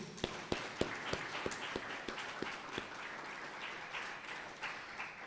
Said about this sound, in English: can we give Tala a round of applause